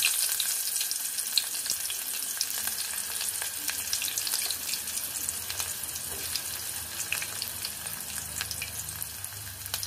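Onion, green chilli and turmeric sizzle and crackle steadily in tempering oil in a pan, a constant hissing fry with small pops, no voices.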